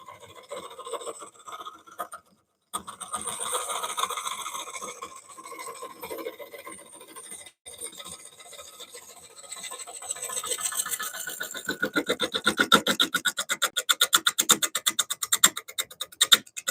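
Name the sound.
scraper shaving wood bowl on a lathe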